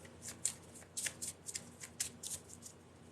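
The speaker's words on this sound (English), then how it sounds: "This is really hard to shuffle." Tarot cards being shuffled by hand in a series of short, crisp riffling bursts, close and fairly quiet, with no talking.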